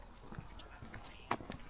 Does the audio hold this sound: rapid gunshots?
no